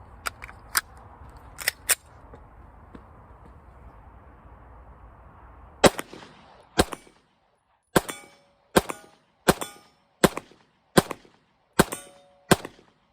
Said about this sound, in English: we're going to shoot one more round, or excuse me, one more mag with the Federal Full Metal Jacket Factories.